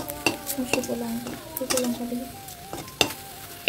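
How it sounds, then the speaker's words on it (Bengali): Dried chilli and garlic fry lightly in a pan, with a soft sizzle beneath repeated clinks and scrapes of a spoon stirring against the metal, close by and fairly quiet, with no talking. "শুকনো লঙ্কা আর এটা রসুন একটু হালকা ভেজে নিচ্ছি"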